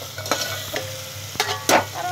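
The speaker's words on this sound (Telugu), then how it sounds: "కొంచెం ఉప్పు వేసుకొని మళ్ళీ కలియబెట్టి" Potato and tomato curry stirred in a pan in a village kitchen, with a few scraping strokes over a low steady sizzle, close and fairly quiet.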